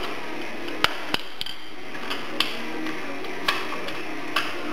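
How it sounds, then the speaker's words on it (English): A breaker bar working a castle nut loose on an axle, heard as sharp metallic cracks and taps spaced about a second apart over a constant loud workshop hum. "We're going to take a breaker bar onto this castle nut, loosen it up"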